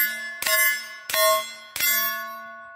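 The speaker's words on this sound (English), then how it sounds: "When you hit the steel, it's louder." Three bullets strike a steel target in turn, each hit a sharp metallic clang followed by a bright bell-like ring that fades before the next, evenly spaced and fairly loud.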